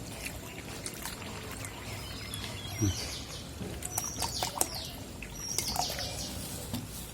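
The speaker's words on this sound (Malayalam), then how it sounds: "ഇനി നമുക്ക് ഇതിൻ്റെ അകത്തേക്ക് കുറച്ച് വെള്ളം ഒഴിച്ചു കൊടുക്കാം." Water being poured into a rusty tank holding soda powder, a soft splashing trickle with scattered sharper drops and bright splashes under steady background noise.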